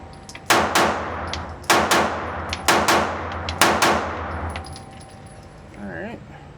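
Four sharp pistol shots fired one-handed at a range, spaced in two double-tap pairs with ringing decay after each, then a short voice at the end.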